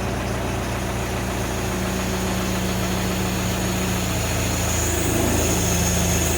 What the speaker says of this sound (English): I ain't got it but idling right now.